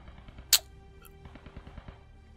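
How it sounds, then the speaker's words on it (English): Distant machine gun fire in Post Scriptum, a quiet rhythmic string of muffled shots after one sharp nearby crack, faint and far off across the battlefield. "Yeah, that's an MG."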